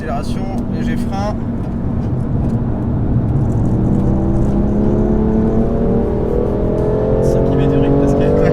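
A loud BMW M5 engine drones steadily on a race track, then climbs in pitch as it accelerates hard, the revs rising smoothly over several seconds.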